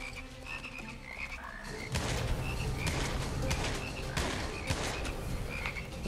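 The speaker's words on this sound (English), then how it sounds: "There's always going to be frogs." Frogs croak densely and continuously in the video game Immortal Redneck, a loud chorus of overlapping rasping calls with sharp game effects mixed in.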